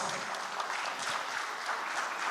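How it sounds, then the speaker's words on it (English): A summit audience gives a round of applause for a filmmaker. It comes across as a soft, steady wash of many hands, fairly distant and even, with no voices standing out. "A round of applause."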